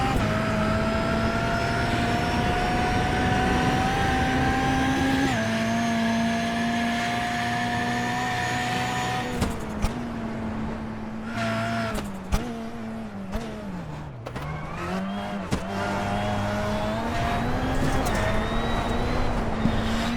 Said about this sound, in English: listen to the sounds of the Volkswagen Beetle as we complete this heat race